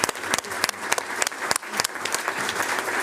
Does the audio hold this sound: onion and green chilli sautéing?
no